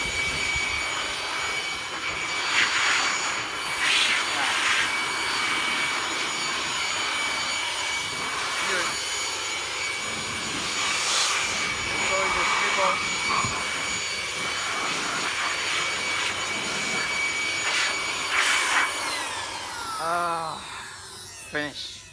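A leaf blower blows dirt and dust away in a steady, loud whooshing roar that surges now and then, with a person speaking faintly beneath it and the motor winding down at the end.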